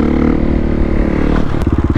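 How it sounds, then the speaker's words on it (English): A stunt motorcycle engine roars loud and close at high revs, then bounces off the rev limiter in a rapid, rhythmic stutter. "How about a rev limiter?"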